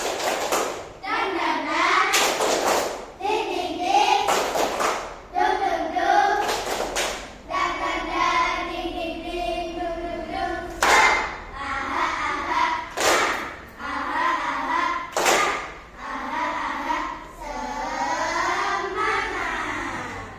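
A classroom group does an Indonesian 'tepuk semangat' clapping chant in rhythmic bursts, sharp hand strikes interleaved with chanted voices of children and an adult, repeating over and over.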